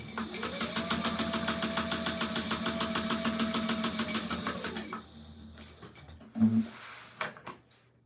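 A sewing machine stitches a pocket pass in one steady, humming run of about five seconds, close and clear. It stops, followed by a few clunks and handling noises, with no talk.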